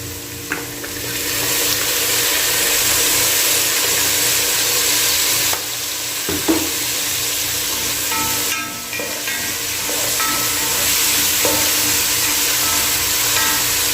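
Garlic, onion and ginger sauté in a pan with fish sauce added, for Filipino goat offal champene, producing a continuous loud sizzle with occasional stirring clanks and scrapes, no voices.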